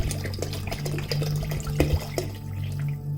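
Three litres of water pouring into a large pan of Indian chicken and vegetable soup on a gas stove, a steady close splashing stream with faint drips and a low hum underneath.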